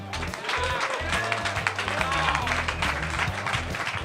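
Crowd applause for guest head coach Jerry Cowan on a sports talk show, clapping and cheering mixed under music, with talk at the start.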